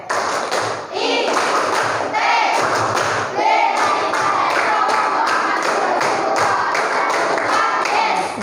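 Students join in a rhythmic ITB clap chant during a morning class gathering, dense group voices and sharp hand claps repeating steadily and loudly throughout, close and filling the room.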